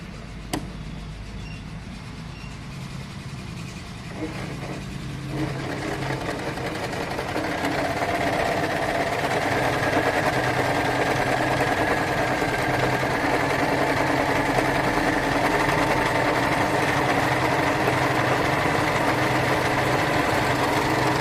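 Portable compact sewing machine running a stitch, a steady mechanical whir and hum that starts softly and grows louder after a few seconds, then holds constant, close by, with no talking.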